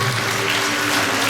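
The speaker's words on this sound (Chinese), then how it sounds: "我们先给她拍手一下哈" A brief burst of crowd clapping at a church's 43rd-anniversary thanksgiving dinner, steady and dense over a low background hum, with no voices on top.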